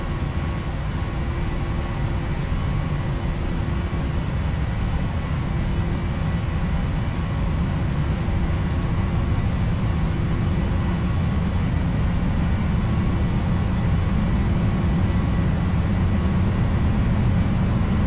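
PMDG 737-800 jet engines at takeoff thrust in the Prepar3D simulator, a loud steady roar with a droning hum that holds evenly and swells slightly as the takeoff roll builds, with no talk.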